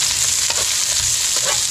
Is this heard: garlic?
yes